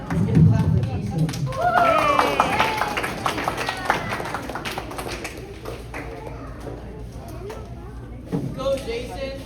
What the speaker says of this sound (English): Let's get a clap for Jason.